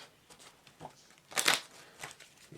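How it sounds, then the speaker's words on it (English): A deck of cards gets a quick shuffle during a solo game of the Flip City card game. Quiet papery riffles and crinkles come in short bursts, with one louder flurry midway, and no one talks. "give it a quick shuffle and place this out on top."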